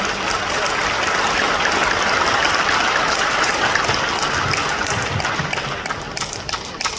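Audience applause at a social economy expo ceremony in a convention hall, a dense, steady wash of clapping from many hands filling the whole stretch, with no voices over it.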